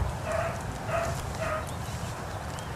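A beagle bays on a rabbit track outdoors, three evenly spaced howling bays in quick succession, somewhat distant over wind and field noise.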